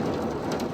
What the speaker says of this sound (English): we made it just in time for one heck of a wicked thunderstorm rolling through